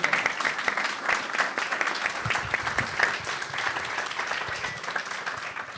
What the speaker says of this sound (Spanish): Un aplauso, está bien